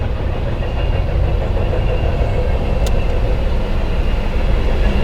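A freight train rolls past on the railroad, a continuous close, heavy rumble with a faint clatter, loud and steady throughout with no voices.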